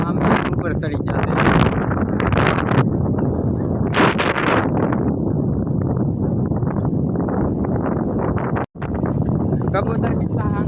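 Strong seaside wind buffets the microphone in a loud, continuous roar with gusty surges, while people talk underneath.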